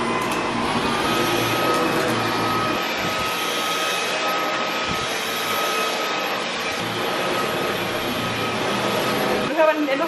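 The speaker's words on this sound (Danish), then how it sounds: "Vi støvsuger lige det her gulvtæppe." A robot vacuum cleaner works over a carpet, giving a loud, close, steady whirring drone that holds through the whole stretch with only small dips.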